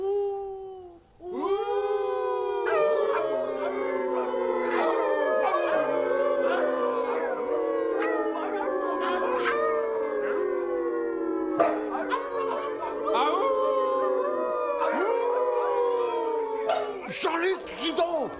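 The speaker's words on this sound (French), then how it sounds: "Il y a des loups. Beaucoup de méchants loups." A pack of wolves howls in long, overlapping rising and falling cries that go on continuously, layered and fairly close, with occasional sharper yelps.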